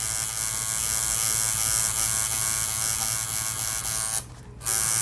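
A tattoo machine fitted with a small needle buzzes steadily while shading detail, a close, constant electric drone with a brief drop near the end.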